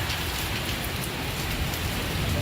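Heavy rain pours down in Beijing as a dense, unbroken roar of drops hitting surfaces, loud and steady from start to finish.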